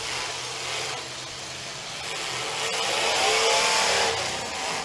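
A demolition derby car engine revs at a Brooksville, Florida derby event, a broad, loud, steady roar that swells in the second half amid crowd and arena noise.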